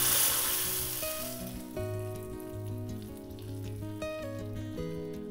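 Steady sizzling and crackling of tadka spices, red chilli or Kashmiri red chilli powder, frying in hot oil for yellow dal, close and continuous, with some faint tonal ringing in the background.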